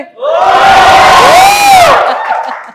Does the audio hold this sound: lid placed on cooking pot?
no